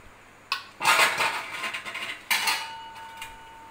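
A spoon scrapes and clinks in a bowl, mixing bread pakoda chaat with ginger garlic paste, chaat masala and amchur powder, in two close, brisk bursts of stirring with a short pause between.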